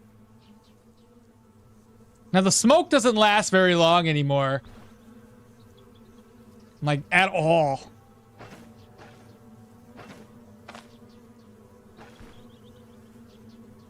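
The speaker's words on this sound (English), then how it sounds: "Holy frickin' bees." Bees buzz in the video game Stoneshard as a faint, steady drone under two loud bursts of someone talking.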